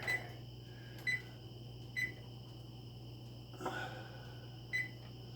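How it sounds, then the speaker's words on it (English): Kitchen timer being set in a home kitchen, giving several short electronic beeps at irregular intervals over a steady low hum. "And I'll get my timer set here."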